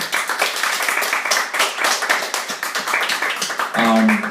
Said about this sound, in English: give it a round of applause for everyone who's performed so far